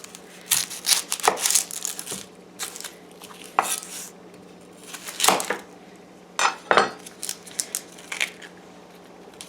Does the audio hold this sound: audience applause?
no